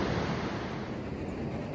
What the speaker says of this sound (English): The waterfall is flowing here at Pedernales Falls.